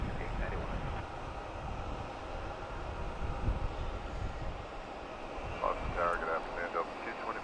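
An SAS airliner arriving from Copenhagen at Boston's Logan Airport gives a steady, distant jet-engine rumble across the whole stretch, with faint voices in the background.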